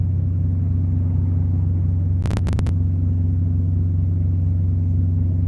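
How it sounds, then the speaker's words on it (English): Steady, loud low rumble of road traffic with a brief burst of sharp clicks partway through. "A lot of traffic noise right here."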